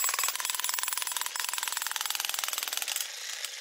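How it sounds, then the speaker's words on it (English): A cheap budget jackhammer hammers in a rapid, steady rhythm of sharp metallic blows, loud and close, running for a few seconds without pause. "We've just bought the cheapest jackhammer you can get on Amazon."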